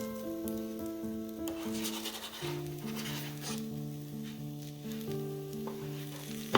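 Slices of bread omelette sizzle and fry steadily in a pan, a continuous crackling hiss beneath soft background music, with no talking.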